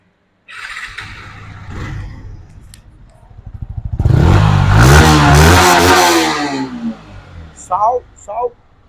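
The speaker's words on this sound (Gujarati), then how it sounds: "ચાલુ કરીને પણ તમને બતાવી અવાજ પણ સંભળાય છે ગાડીનું" Yamaha MT-15 motorcycle in fresh condition starting up, then its engine revving hard and rising and falling for several seconds, loud and close, with a person talking over it.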